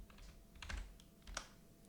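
Fingers type quietly on a computer keyboard, giving a short burst of close key clicks in two small clusters with no talking.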